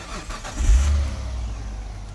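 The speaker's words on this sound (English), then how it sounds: "to start it up, turn the key, hit the button on the right hand side" A Hyundai Coupe GK 2.7 V6 engine turns over and catches, settling into a low rumble, close by with no talking.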